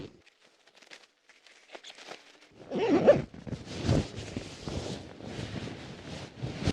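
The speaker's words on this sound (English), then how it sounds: "The zip travels very easily." A zipper on a Zu:Sleep sleeping bag is drawn along its length, giving a rustling, scraping run of fabric and zip noise close to the microphone after a quiet start.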